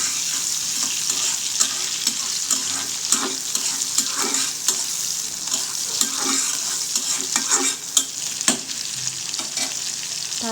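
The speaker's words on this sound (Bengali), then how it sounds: "এখন এই চিংড়ি মাছটাকেও ভালোভাবে ভেজে নেব," Shrimp fry in a hot pan with a loud, constant sizzle and crackle, broken by scattered pops and the occasional stir of a spatula.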